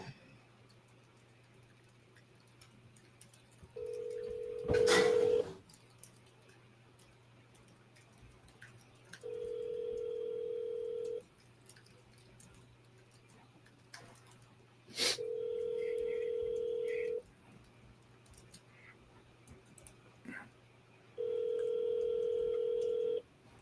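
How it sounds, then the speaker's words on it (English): A phone call being placed: quick dial tones, then repeated long ringback tones spaced evenly apart with quiet pauses between, and a louder click-like burst early on. "Let me call this dude."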